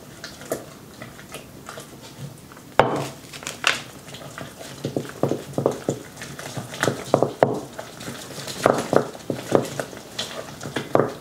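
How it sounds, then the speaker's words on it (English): A spoon stirring egg into homemade dog birthday cake batter in a bowl, giving irregular close scraping and tapping knocks that speed up toward the end, with no one talking. "Mix it all in."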